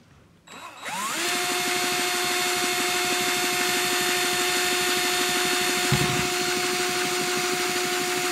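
A brushless motor spindle run on a bench power supply near 30 volts spins up after about a second into a steady whine with a high tone, continuing loud and constant with a brief low thump near the end.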